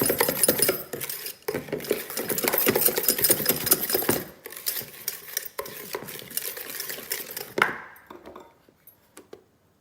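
Sponge cake batter being folded and stirred by hand as flour is worked in, a steady run of close scraping and stirring strokes that grow sparse and faint toward the end, with no talking.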